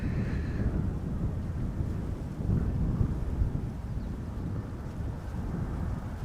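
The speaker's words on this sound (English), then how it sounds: "Emirates flight 145 arriving from Dubai in the background." Emirates jet airliner arriving at Schiphol from Dubai, heard as a steady, broad low roar rumbling continuously in the distance, muffled by wind buffeting the microphone throughout.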